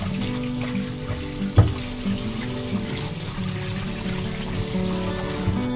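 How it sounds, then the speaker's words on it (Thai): Tap water runs into a sink as corn cobs are washed, a steady splashing flow with a sharp knock partway through and small handling bumps, with no speech. "เสร็จแล้วก็ให้เราล้างทำความสะอาดข้าวโพดก่อนนะคะ"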